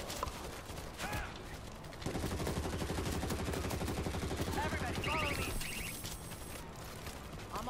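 Sustained automatic gunfire in World War Z, a dense rattling stream of shots that starts abruptly and runs for several seconds amid game effects and a few mechanical clicks.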